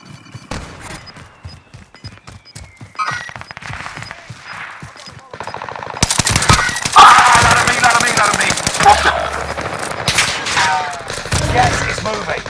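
Gunfire in the Call of Duty: Modern Warfare video game builds from spaced single shots into heavy, loud, continuous rapid fire with overlapping bursts and impacts, as players talk over it.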